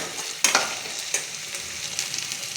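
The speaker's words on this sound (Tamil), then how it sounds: "வாஷ் பண்ண துவர துவர சேர்த்து ஒரு ரெண்டு நிமிஷம் வதக்கணும் எண்ணெயில்" Pigeon peas being stir-fried in oil in a pan, with soft sizzling and a few distinct scraping stirs near the start and middle over a steady, faint frying hiss, no talk.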